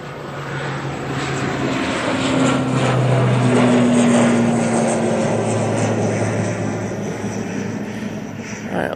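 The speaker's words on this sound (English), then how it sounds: "Now on the roll, using the ATR 72. Oh, it's 42." A Loganair ATR 42 turboprop takes off at Manchester Airport, its loud, steady propeller drone carrying humming tones that swell toward the middle and ease slightly by the end, with no voices.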